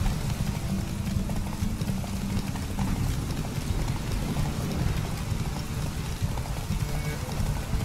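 A horse gallops during a horse race in the video game Witcher 3, with a dense, low drumming of hooves under a rushing, rain-like wash of noise at a steady level.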